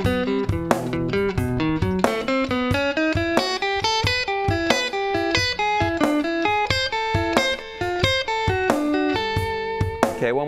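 An electric guitar plays an exercise as a steady run of quick plucked single notes, clean and evenly paced for about ten seconds.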